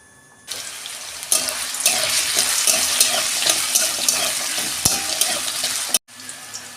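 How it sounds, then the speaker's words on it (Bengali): Potatoes frying in hot oil in a wok make a loud, steady, hissing sizzle. It swells after a moment, runs without a break for several seconds, then cuts off abruptly near the end. "আলুটা আমার ভাজা হচ্ছে"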